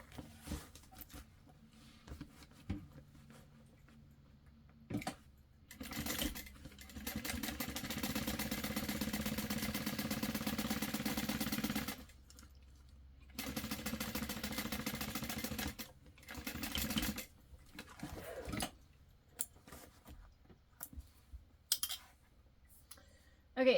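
A sewing machine top stitching a fabric bag, running in several bursts of a few seconds each with quiet clicking pauses between, close and fairly soft.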